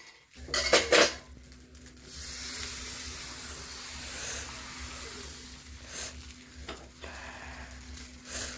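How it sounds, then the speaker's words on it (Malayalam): Appam batter hits a medium-hot pan with clinks of metal on metal, then a soft steady sizzle as the pan is swirled, close by with no talking. "ഇനി അതിലേക്ക് നമുക്ക് മാവ് ഒഴിച്ച് ചുറ്റിയെടുക്കാം കേട്ടോ"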